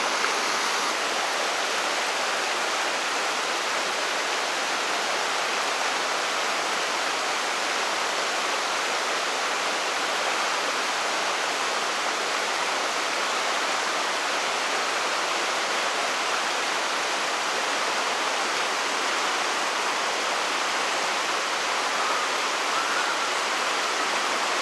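Mountain river in Arkhyz, a strong stream rushing over rocks, heard as a loud, steady, unbroken roar of flowing water throughout with no other sounds.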